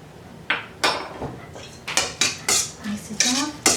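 Chili flakes are mixed into a Thai larb chicken salad in a bowl, producing loud, close, repeated clatters and scrapes of a utensil against the bowl in quick irregular strokes.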